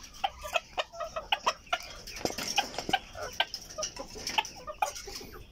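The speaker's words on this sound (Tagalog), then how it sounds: "Ito naman yung hen ko mga ka-backyard na Silver Lace Polish Frizzle." A Silver Lace Polish Frizzle hen clucks in a steady run of short, close clucks over faint backyard background noise.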